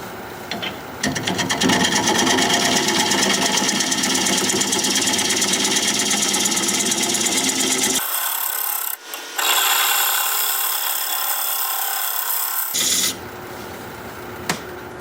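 California olive wood turns on a lathe while a tool scrapes and cuts the bottom flat, giving a loud, continuous rasping hiss that cuts out for a few seconds midway, then resumes.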